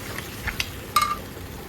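Brief scraping stirs and soft clinks in a pan as taro leaves are mixed with green chilli and black cumin, a few quick strokes over a faint sizzle.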